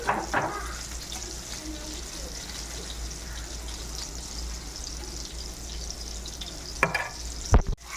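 Squid vada frying in hot oil at home, a steady close sizzle with stirring and a few sharp clatters near the end.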